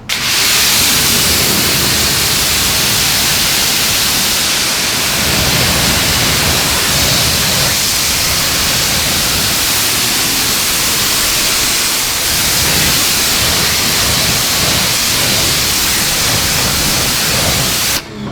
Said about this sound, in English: Here we go, pressure washer,